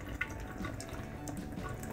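Warm water runs from a kitchen tap while water balloons are being filled, a steady close splashing gush with small gurgles and drips, no voices heard.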